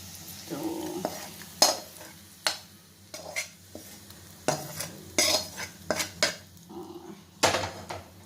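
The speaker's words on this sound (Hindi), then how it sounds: "जीरा और धनिया पाउडर देके अभी मैं इसमें फ़ौरन मिक्स कर लूँगी।" A spoon stirring bottle gourd and chana dal curry with cumin and coriander powder in a pan. Close, irregular metallic scrapes and clanks sound over a faint background sizzle, with no talking.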